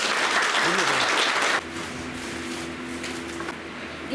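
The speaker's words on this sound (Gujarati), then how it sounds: "સૌ તાળીઓ સાથે સહયોગ આપો." An audience at a Brahma Kumaris road inauguration and honour ceremony claps loudly and densely for about a second and a half, then the applause drops away into a quieter hum.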